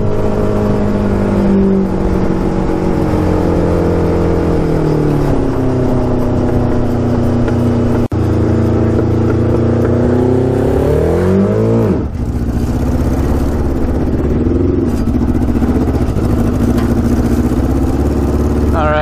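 A 650cc shifter kart engine revs loud and close, a sustained high buzzing whine that holds steady, sweeps up and down around a gear change, then climbs again while the kart accelerates.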